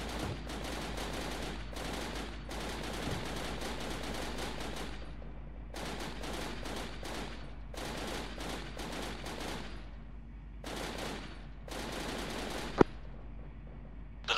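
Bursts of automatic gunfire from a Puma infantry fighting vehicle on a military exercise, rapid rattling volleys broken by short pauses, heard at a distance over a low steady rumble.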